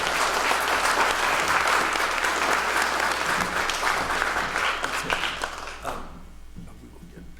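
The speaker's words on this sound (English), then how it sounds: "I'm sure his support system will give him a nice round of applause." Audience applause at an awards breakfast, a dense, steady round of clapping from a room full of people that holds for several seconds and then trails off into quiet.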